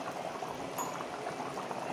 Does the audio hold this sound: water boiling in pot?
yes